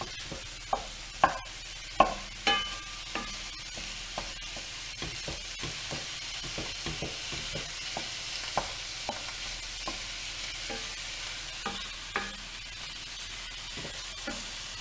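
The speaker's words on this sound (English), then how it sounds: "And hear that sizzling away." Minced meat sizzles steadily in a hot cast iron pan for a bolognese, with a spoon stirring and scraping through it in repeated sharp knocks over the constant fry; no one speaks.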